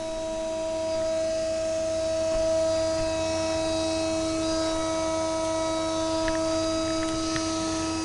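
A pulse motor generator with two coils spins under load, giving a steady electric hum with a bright tonal whine and faint ticking pulses, even and continuous at moderate volume.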